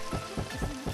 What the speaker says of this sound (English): The sound I will use as kick for this track is going to be when Link is running on a wooden